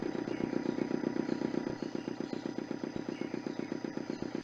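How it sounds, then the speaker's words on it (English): A motor in the Broken Sword II video game splutters into life, then runs as a rapid, even chugging rattle, close and steady without speech. "The motor spluttered into life."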